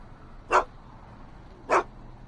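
Einstein, Doc's dog in the Back to the Future video game, gives two short, clear barks about a second apart, with quiet background between them and no talking.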